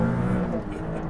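A Maserati MC20 supercar with a Modena-built Nettuno six-cylinder engine revs with a deep, steady growl that dips briefly and then rises again.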